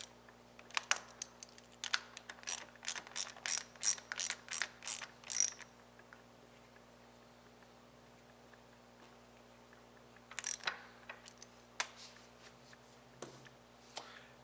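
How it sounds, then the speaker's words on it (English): Socket wrench ratcheting while a bolt on a Luggie mobility scooter seat is tightened: a fast run of crisp, close clicks, a pause, then a few more short ratchet bursts near the end, with no talking. "Use your socket wrench to tighten up the bolt."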